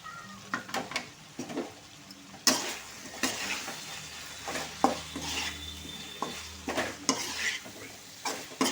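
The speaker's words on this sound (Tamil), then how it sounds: "நல்லா கிண்டணும்" A spoon stirs chili, turmeric and coriander powders with tamarind water for a village-style dried fish curry in a pan, giving irregular scraping strokes over a soft sizzle, fairly close and with no talk.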